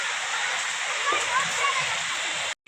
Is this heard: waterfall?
yes